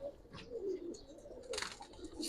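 Low, rolling coos from pigeons kept at a pigeon seller's, a few soft repeated calls close by with faint rustling and background noise.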